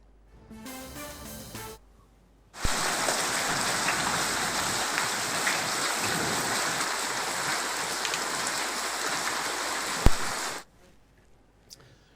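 Hail and rain pour down on farm fields in a dense, steady roar that starts abruptly and holds loud and even for about eight seconds before cutting off, after a brief, fainter sound at the start.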